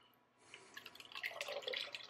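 Water dripping and trickling from a potted houseplant lifted out after a dip, draining back into a water-filled basin; quiet at first, then a busy patter of close, irregular drips that grows steadily.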